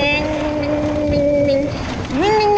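A voice imitates a dirt bike engine, a sustained droning tone that holds steady, briefly dips, then revs upward in pitch near the end, loud and close.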